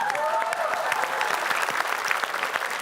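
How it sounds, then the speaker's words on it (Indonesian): An audience at a televised quiz show claps loudly and steadily, a thick wash of hand claps with a few faint tonal cries mixed in. "Boleh kasih tepuk tangan lagi dulu."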